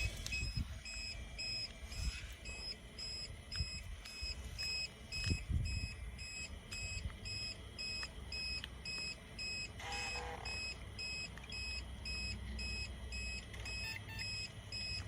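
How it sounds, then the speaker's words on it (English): An uninterruptible power supply sits beside an old Compaq Prolinea 4/25S desktop being restored and emits a steady train of short, high electronic beeps, fairly faint over low room rumble and occasional handling knocks. "Do apologize for the UPS noise."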